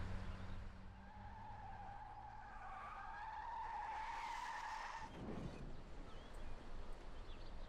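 Car tires skidding hard under braking during a chase in the Mafia video game: a loud, sustained rising squeal over engine rumble, cut off by a heavy jolt near the end.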